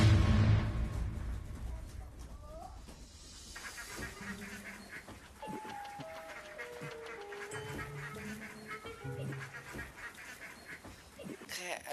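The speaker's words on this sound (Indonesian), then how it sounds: "Beneran ada bebek, men." Ducks quacking and honking indoors in a kitchen setting, a rising chorus of repeated calls growing louder over about twelve seconds, with faint voices in the background.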